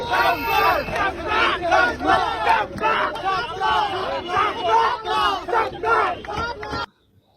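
A large crowd at a political gathering chants a slogan in loud, rhythmic unison, the call repeating steadily for several seconds before cutting off abruptly.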